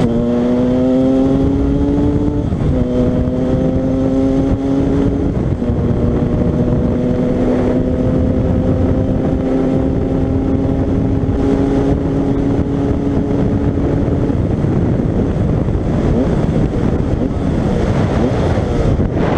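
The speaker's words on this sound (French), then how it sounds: "c'est un vrai moteur d'enduro quoi" A small two-stroke 125cc Yamaha DTR enduro motorcycle engine revs loudly and steadily up close, pitch rising and settling through several gear changes with a raspy, buzzing tone.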